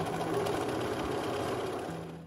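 Sewing machine stitching a scarf, a steady close mechanical whir with a rapid needle rhythm that slows and fades at the end.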